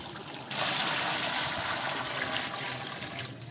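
Water pours from a large pitcher-style pot into kandoori mutton curry being cooked for three hundred people, a steady close gushing stream that swells after a moment, with no talk.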